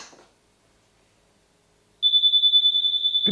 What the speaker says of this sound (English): This beep, beep, beep, beep, beep, beep is because the key is far away.